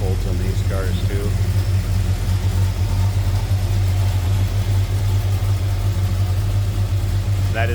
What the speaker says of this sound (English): Numbers matching 440 Super Commando V8.